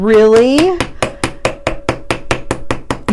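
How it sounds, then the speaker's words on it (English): A nylon hammer strikes a wire earring component on a block in a quick, steady run of about a dozen sharp taps. A voice is heard briefly just before the hammering starts. "I'm going to use my nylon hammer. Now, I am really going to hammer this."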